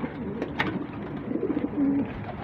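Soft racing pigeon cooing with a few wing flutters, nearby, over a low outdoor background hum.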